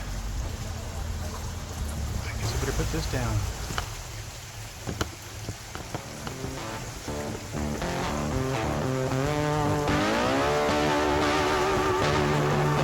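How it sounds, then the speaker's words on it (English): A motorboat engine drones nearby on the Trent-Severn Waterway, its pitch rising as it passes close, with a person speaking briefly over the steady motor and water noise. "Oh, here comes a boat."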